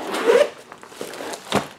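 A zipper on a first aid kit bag is pulled in several quick, raspy strokes, a loud scratchy burst first, then shorter softer drags and a final sharp zip, close up with no talking.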